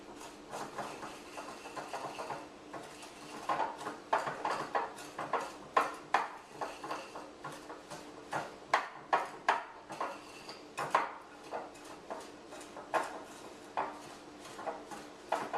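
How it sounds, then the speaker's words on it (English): A whisk works brown sugar and other cookie-dough ingredients together in a bowl, giving quick, irregular clinking taps and scrapes against the bowl's side at close range, with no voices. "I'm going to get my whisk and combine these ingredients until they're nice and smooth."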